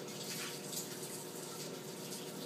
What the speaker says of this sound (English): Rinse your face off with water.